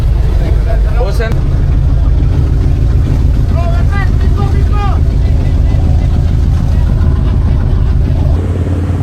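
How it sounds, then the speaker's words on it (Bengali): Loud, steady engine drone of a service boat at sea near Singapore, filling the whole stretch with a deep rumble while people talk over it. "আমরা এইমাত্র সার্ভিস বোট থেকে নামছি।"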